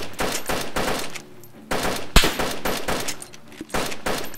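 Rapid bursts of automatic gunfire from the DayZ Standalone video game, shots coming in dense volleys with one sharp, louder crack near the middle, fairly close and loud throughout.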